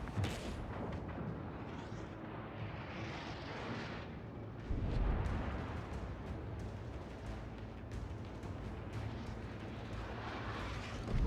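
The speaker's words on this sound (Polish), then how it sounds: "Dodatkowa artyleria obija." Secondary guns on the French tier IX battleship Jean Bart keep firing in a World of Warships naval battle, a dense rumbling barrage of booms with a heavier blast about midway, loud and continuous.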